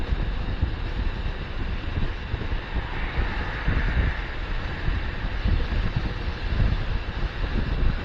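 Strong wind on a highway near Gadag buffets the microphone in a loud, continuous rumbling roar that gusts unevenly throughout, with no voices.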